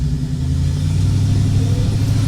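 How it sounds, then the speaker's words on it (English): A car engine idles steadily at around 600 RPM after being fixed and fitted with a new exhaust, giving a loud, even, low rumble with no change in pace throughout. "She's idling a nice steady 600 RPM around there."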